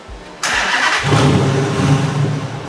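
A car engine cranks and fires up loudly, running with a second muffler fitted and no rear mufflers, settling into a deep, rumbling idle close by.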